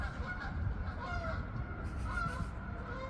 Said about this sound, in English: Noisy geese.